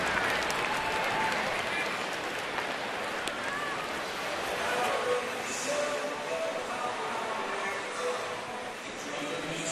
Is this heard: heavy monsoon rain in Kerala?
no